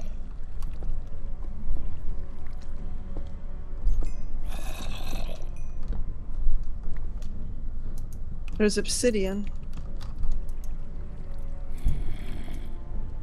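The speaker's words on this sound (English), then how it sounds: "I'm gonna turn off that water" Flowing water in Minecraft during a multiplayer survival match: a low, continuous gurgling wash under game clicks and effect sounds, with players talking over it.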